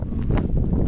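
Gusty wind buffets the microphone on a walk overlooking downtown Vancouver, a loud low rumbling roar for about a second with no voices.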